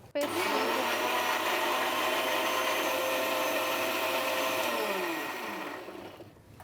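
A blender runs at a steady, loud whir for several seconds blending green curry paste, then its motor winds down and stops.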